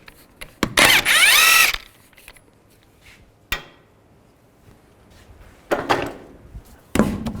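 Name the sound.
removing wheel nuts with a 21mm socket on Nissan Xterra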